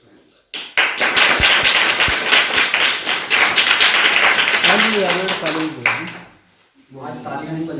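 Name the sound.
audience clapping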